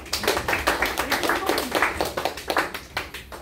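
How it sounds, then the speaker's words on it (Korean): Dense audience applause at a lecture on North Korea, many hands clapping together in a steady, lively patter that stays fairly loud throughout. "여러분 박수 한번 쳐주시나요?"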